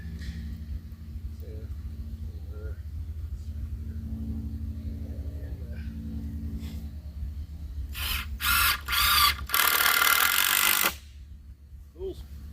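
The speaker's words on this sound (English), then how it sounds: "I know how to use an impact drill." A low mechanical hum runs throughout, then an impact drill drives screws into boards in several short bursts followed by one longer buzzing run, close and loud.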